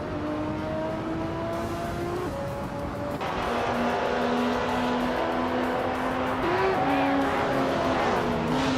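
LMP 900 prototype race cars in a racing video game, several high-pitched engines droning and shifting pitch as they rev and change gear, loud and continuous, with no talking.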